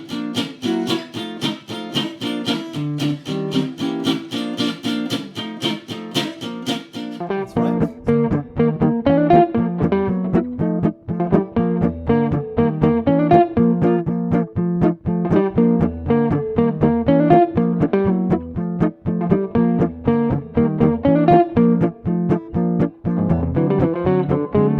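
Swinging blues chords on a rhythm changes progression with a walking bass line descending in semitones, a steady pulsing rhythm of short chord stabs over bass notes, loud and close with no speech.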